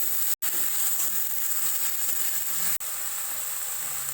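Ginger paste and green chili paste frying in a pan for a pomfret curry, a steady close sizzle running throughout with two brief dropouts.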